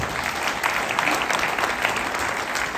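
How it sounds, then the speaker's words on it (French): An audience at a Rotary Youth Exchange district conference in Plougastel claps steadily, a dense sustained patter of many hands throughout, fairly loud with no voices standing out. "Merci de l'applaudir"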